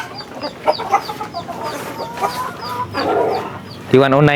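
Breeder chickens on a free-range farm cluck repeatedly in short, close bursts with a steady barnyard murmur behind, ending in a louder, drawn-out call.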